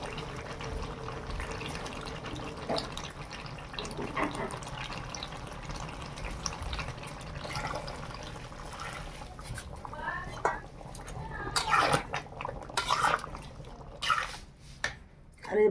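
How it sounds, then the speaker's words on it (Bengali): Hot water is poured into meat cooking in a pot in a village kitchen, a steady running, splashing pour with some bubbling and clatter toward the end, heard close with faint background activity. "এবার আমি গরম জল দেব।"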